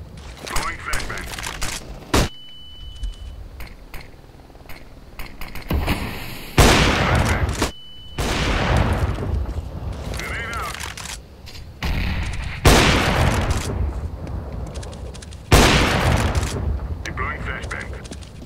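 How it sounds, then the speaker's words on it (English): Gunfire and a flashbang grenade in CS:GO on the Dust 2 map: sharp shots and loud bursting blasts at irregular intervals, some close and booming, with players talking over the action. "Deploying flashbang."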